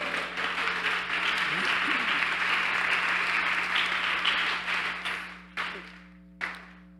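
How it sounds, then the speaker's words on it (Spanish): Church congregation applauding during a Spanish-language Bible seminar service: dense, sustained clapping with a steady hum underneath, tapering off near the end, then two brief final bursts of claps. "Dale ese aplauso."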